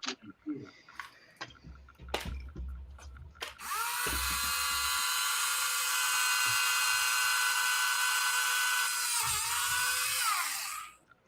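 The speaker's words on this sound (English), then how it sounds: "uses the Tamiya handy drill" A Tamiya handy drill, a small low-RPM hobby drill used at a workbench, spins up after a few clicks and runs with a steady high-pitched whine for several seconds before winding down.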